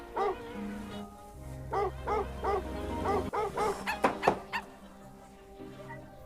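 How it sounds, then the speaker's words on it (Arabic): A dog nearby lets out a series of short yipping barks and whimpering whines in uneven bursts, growing sharper and quicker toward the end before trailing off. "اقسم بالله الكلب هذا زعجني"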